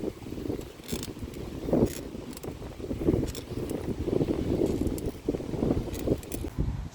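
Creaking, grinding mechanical noise from a Tongsheng TSDZ2 mid-drive e-bike motor with about 230 km of use while pedaling, heard as a steady, irregular rumble with scattered sharper crunches and some wind noise over about seven seconds.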